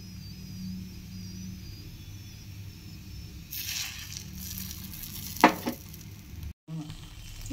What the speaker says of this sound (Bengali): পরোটাটা আর কি ভাজা হচ্ছে, তো এর মধ্যে আমি এবার দিয়ে দেব উপরে ডিমটা যেটা ফেটিয়ে রেখেছিলাম কিছুটা